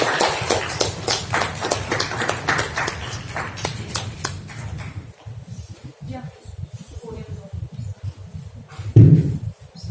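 Audience applause at a blockchain conference greets a speaker called to the podium, a dense burst of clapping for about five seconds that then thins into scattered claps under speech.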